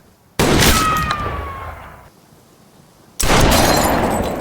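Two loud blasts of gunfire inside a house, each ringing out into a long echoing decay, with a short quieter gap between them.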